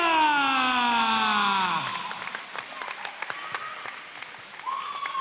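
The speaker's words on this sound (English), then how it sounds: "big round of applause for Rhyse Saliba." Applause rises from the crowd at a Muay Thai kickboxing event in Penrith, New South Wales, heard beneath a ringing, drawn-out announcer's voice that fades, leaving scattered claps and crowd noise.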